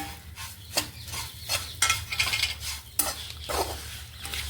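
Grated coconut sizzles and fries in a pan as a spoon stirs and scrapes it in uneven strokes, close and fairly quiet, with a steady low hum underneath.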